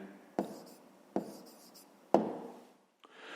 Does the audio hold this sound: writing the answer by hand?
yes